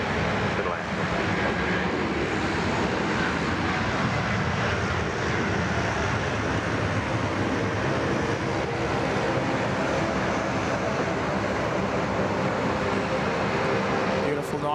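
A departing airliner roars steadily at Sydney Airport, a broad continuous rumble holding level for the whole stretch, with a voice talking over it in the foreground.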